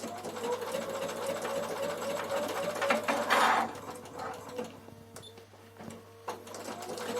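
A Bernina sewing machine runs a triple stitch with thick thread through wool appliqué for a draught stopper, a close, steady mechanical whir that speeds up briefly, then slows and stops with a few clicks.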